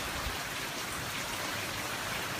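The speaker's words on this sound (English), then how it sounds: "It was raining a little bit harder a moment ago." Rain falling in the San Fernando Valley on a Monday morning with some wind, a dense even patter and wash that holds steady and close with no voices.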